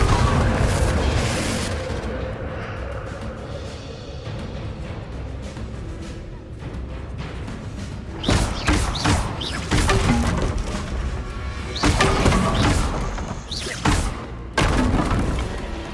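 Repeated Confringo fire spells blasting in Hogwarts Legacy, loud booming explosions landing in bursts around 8, 10, 12 and 15 seconds over continuous game ambience and music.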